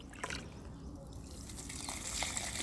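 Water is poured into a potted plant, trickling and splashing steadily into the soil at close range with a faint background hiss.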